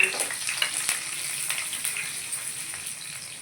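Dried red chillies, four or five pieces, fry in hot oil among sputtering seeds, giving a close, steady sizzle dotted with sharp crackles and pops throughout.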